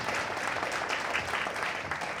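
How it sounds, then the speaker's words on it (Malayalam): Audience applauding at an Akshara Sloka recital gathering at a temple, a brief, even, dense patter of many hands clapping from the crowd. "എല്ലാവർക്കും നിറഞ്ഞ മനസ്സോടെ ഒരു വലിയ കയ്യടി കൊടുത്ത്"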